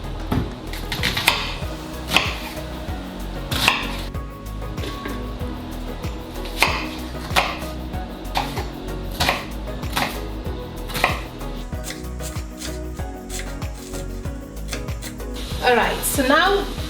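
A knife slices onions on a cutting board in a home kitchen while a bean stew is prepared, giving sharp, irregular chops spaced a second or two apart, close by and moderately loud.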